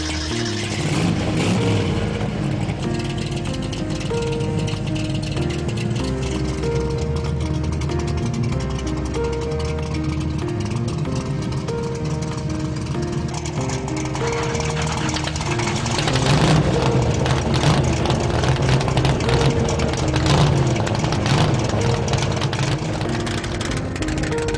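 A 1965 Shelby 427 Cobra full competition car's engine rumbles and revs in a long, loud run with a rising surge of power late on, no talk over it.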